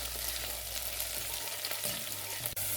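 Onions and garlic frying in a little oil in a pan over low-medium heat give a steady, close sizzle with faint stirring movement and a short clatter near the end.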